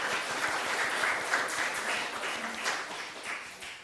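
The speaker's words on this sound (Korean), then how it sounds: "잘 다녀오시도록 박수 또 드리겠습니다." A church congregation claps during a Sunday service, a steady wash of applause at moderate volume that fades slightly toward the end.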